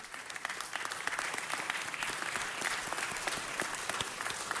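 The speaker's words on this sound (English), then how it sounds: "give a round of applause to our own" Applause fills a city council chamber for an introduced speaker, a steady roomful of clapping hands at moderate volume, sustained and unbroken for nearly five seconds without speech.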